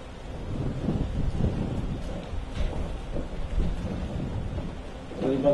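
Steady rain falling at an outdoor stage event, a continuous broadband wash with low rumbling and gusty wind, moderately loud throughout, with no clear speech heard.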